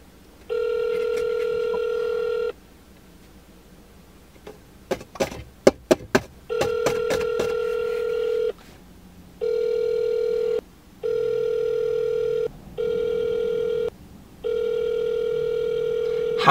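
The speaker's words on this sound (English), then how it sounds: "How is it still ringing?" Phone call ringback tone on a call to a gas station, repeating in long steady buzzing bursts with pauses, plus a quick run of dialing beeps midway, with no talking.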